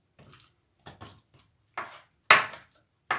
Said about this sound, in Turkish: Tavuklarımı küçük küçük kuşbaşı doğrayacağım.